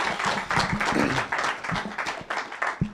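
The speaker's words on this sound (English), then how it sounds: "that's a big round of applause for our moderator over the last 2 days, Honorable Sam Moyo" An audience at a closing ceremony claps in an uneven, moderately loud burst, with bunched claps rising and falling and faint voices mixed in.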